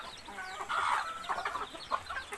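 Several chickens cluck softly and irregularly while pecking at feed on a rainy day, a close, busy stream of short calls with a few louder hen notes rising above the flock.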